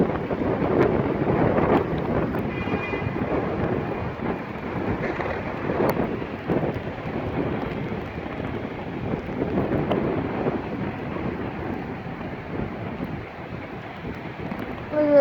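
Strong gusty wind buffets the microphone without pause on a cold, rainy evening in Turkey, a steady heavy roar with surges.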